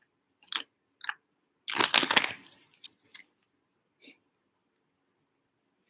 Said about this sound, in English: Excuse me, I have the hiccups.